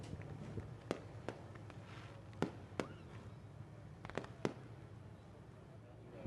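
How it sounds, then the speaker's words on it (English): Fireworks going off at Pittsburgh's Pennsylvania Motor Speedway during a hobby stock race night, a scattering of sharp distant cracks and pops over a steady crowd and track rumble. "With the fireworks going off this next time by"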